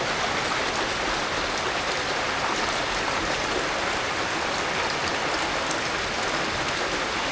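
Rainwater pours steadily from a rooftop garden's drain line during rain, making a continuous loud rushing, splashing wash of water with no break across the whole stretch.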